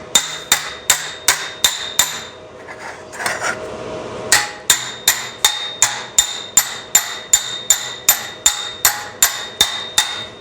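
Rapid, evenly spaced hammer taps on sheet metal backed by a dolly near a car's headliner bow, loud and close with a bright metallic ring, pausing briefly for a scraping shuffle before the steady tapping resumes.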